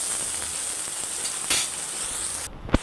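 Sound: onions frying in oil

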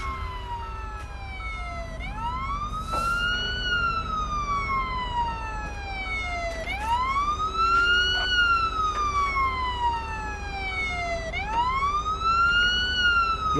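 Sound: police siren in video game Police Simulator

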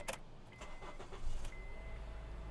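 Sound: 2011 Honda CR-V engine cold start chatter

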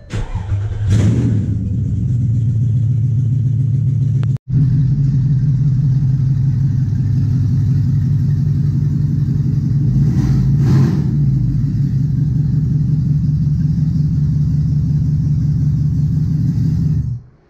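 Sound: Porsche Cayenne S 4.5L V8 open header engine startup

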